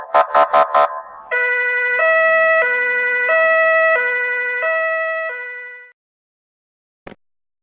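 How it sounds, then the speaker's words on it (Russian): Police car siren sounding close and loud, opening with a few quick bursts, then a steady alternating two-tone hi-lo wail lasting several seconds before fading out, with a short click afterward. "Полицейская машина."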